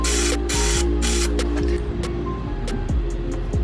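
Penetrating oil hisses from an aerosol can in several short sprays onto a seized nut on a car, over a steady low hum and some faint clicks.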